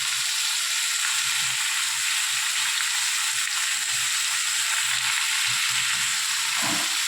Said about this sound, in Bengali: এটা ভাজা ভাজা করতে হবে।